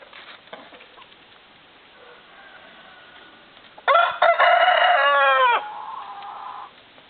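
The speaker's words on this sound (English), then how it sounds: "There's the rooster." Rooster crowing nearby in a backyard coop with chickens, one loud, drawn-out cock-a-doodle-doo rising out of quiet background clucking and rustling, followed by a softer trailing call.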